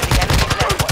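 Rapid bursts of gunfire in the Call of Duty Ashika Island map, loud and close, with repeated shots in quick succession.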